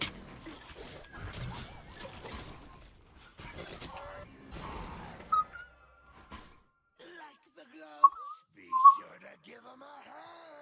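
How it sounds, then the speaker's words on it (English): A person whistles a few short, shrill, high notes after talking, each whistle a bright piercing burst with quiet gaps between them, up close. "Does it hurt your guys' ears when I whistle like that?"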